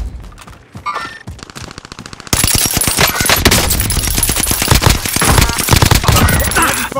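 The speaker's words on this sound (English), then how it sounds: "Enemy fire." Enemy gunfire in the Call of Duty Vanguard game, sparse shots at first, then loud, sustained automatic bursts rattling continuously close by.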